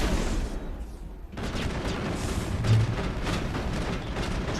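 Enemy gunfire in the sci-fi shooter Mass Effect, a dense rattling barrage of repeated shots and booms that drops out briefly near the start, then resumes continuously at moderate loudness with no voices.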